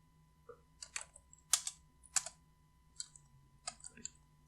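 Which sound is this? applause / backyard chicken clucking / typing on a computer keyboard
typing on a computer keyboard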